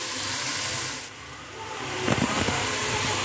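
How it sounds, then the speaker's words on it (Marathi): Onions frying in a pan until golden brown for a dhaba-style methi malai matar, a steady loud sizzling hiss that dips briefly and then swells back with sharper crackles. "तर कांदा मी छान इथे भाजून घेणार आहे."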